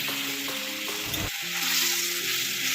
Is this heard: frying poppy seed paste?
yes